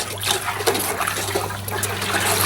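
A buckskin hide soaking in water being stirred by hand during brain tanning, giving a steady close sloshing and trickling of liquid with small splashes throughout.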